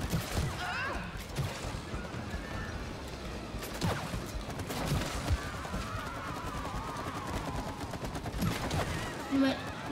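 Rapid gunfire in the co-op video game It Takes Two on PS5 during a wasp queen boss fight, with dense, continuous bursts of shots and impacts while players talk over it.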